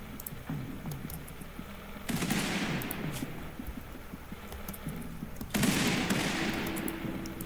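Raiders in the RimWorld video game set off blasts against granite colony walls: two heavy booming bursts, a few seconds apart, each trailing into a crackling decay, with faint clicks scattered between them.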